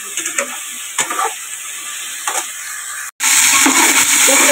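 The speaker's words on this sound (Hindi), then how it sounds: "पहले हम चिकन को फ्राई कर लेंगे" Chicken fries in a pan with a steady broadband sizzle and a few soft stirring scrapes, then a short pause before a louder, denser burst of frying.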